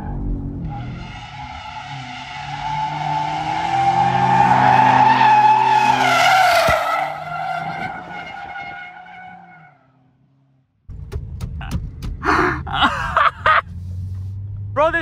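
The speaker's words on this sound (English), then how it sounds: "this car is in all-wheel drive mode and it's sliding like this" A new Audi RS5 or BMW M5 G99 in all-wheel drive mode slides in third gear, with a long rising engine roar and tire squeal that fades out, then rough bumps and rumbling; a voice exclaims over it.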